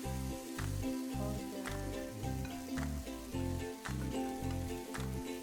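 Steady, loud sizzling of fried rice with shrimp and squid ink in a hot pan, with occasional scraping stirs and a few soft knocks.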